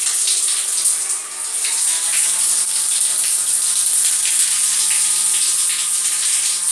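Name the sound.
shower water running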